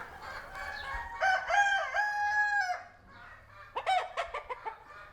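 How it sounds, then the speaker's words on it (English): Roosters crow and chickens cluck on a farm that runs a chicken hatchery, with two long crowing calls layered over each other, followed by shorter clucks and squawks, fairly close and clear. "I just saw a couple of chickens run by"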